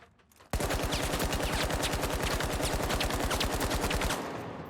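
AKM rifle firing in The Finals, a rapid sustained automatic burst of roughly thirty evenly spaced, loud, close shots lasting about three and a half seconds, then cutting off.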